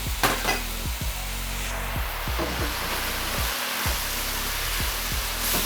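Rice stir-fried in a pan with a soy sauce mixture for special fried rice, a steady sizzle with repeated scraping stirs of a utensil across the pan, close and continuous throughout.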